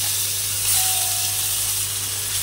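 Fish fry lightly in oil in a pan, giving a steady, even hiss and sizzle that holds at a constant loudness with a low hum beneath it.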